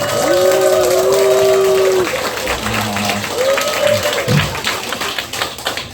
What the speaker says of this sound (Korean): 준모 상무님을 모실 때 뜨거운 박수로 모시겠습니다.